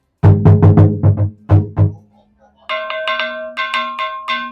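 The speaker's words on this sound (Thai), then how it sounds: "ตีกองและระฆังนะฮะเพื่อความเป็นสิริมงคลฮะ" A deep temple gong is struck about seven times in quick succession, ringing out, then a brighter temple bell is struck repeatedly, its tones sustaining between hits, at a temple in Hong Kong.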